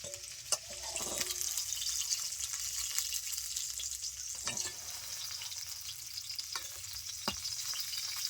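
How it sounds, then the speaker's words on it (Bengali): Medium okra fries in oil in a kadai with a loud, continuous hiss and crackle, and occasional sharp clicks of a spatula stirring; no talking is heard. "আর তো ভেন্ডিগুলো মিডিয়াম আছে, ভেজে নিতে হবে। ভেন্ডি ভেজে নিয়েছি, তুলে নিচ্ছি।"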